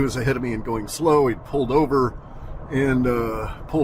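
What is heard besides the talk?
None of the usual background noises is heard.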